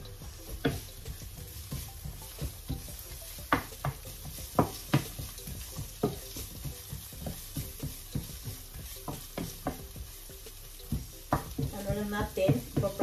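Garlic and onion fry in a pan with a steady low sizzle, cut through by frequent sharp scrapes and taps of a utensil stirring, close up and fairly quiet.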